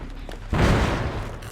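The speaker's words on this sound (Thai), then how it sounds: "มาถึงก็ทำเครื่องระเบิดเลยสู" A sudden loud blast bursts in after a low hum as a generator explodes in the video game Dead by Daylight Mobile, rumbling on for about a second, filling the sound with a heavy explosive roar.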